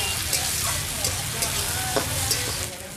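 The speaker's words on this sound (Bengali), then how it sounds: "পেঁয়াজটা আমি ভেজে নিয়েছি, এবার আমি কুচিয়ে রাখা টমেটো দিয়ে দিচ্ছি।" Chopped tomatoes hit fried onions in a hot pan, setting off a steady, close sizzle with small crackles and pops throughout, no voices over it.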